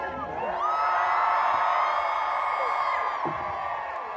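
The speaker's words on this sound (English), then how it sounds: "Keep cheering." Crowd at Silverstone for the British GrandPrix media day cheering and whooping in front of the M&S main stage, a loud sustained roar of shouts and yells that holds steady and fades slightly near the end.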